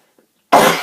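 A single loud, harsh cough bursts out after a stretch of near silence, close to the listener.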